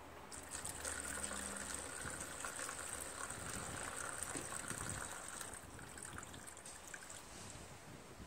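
Fuel trickles and pours steadily from the fuel line of a Kawasaki FB460V-powered Yazoo commercial walk-behind lawn mower, a faint continuous liquid splatter outdoors.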